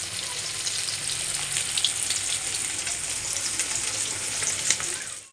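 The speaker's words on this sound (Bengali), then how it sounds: "আর মাছ ভাজাও বসিয়ে দিয়েছি, এখানে 4 পিস মাছ আছে" Four thick pieces of katla fish fry in hot oil with a loud, continuous, crackling sizzle that stays steady and close from start to finish.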